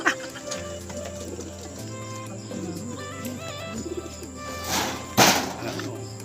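Pigeons coo in soft, repeated low calls against a steady tonal background, followed near the end by a brief louder rustle or flutter.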